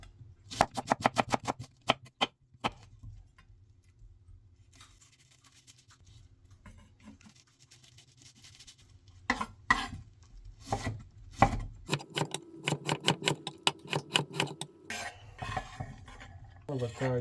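Onion being chopped on a board for pasta bolognese, bursts of quick rhythmic knife strikes close by, pausing midway and then resuming in rapid runs.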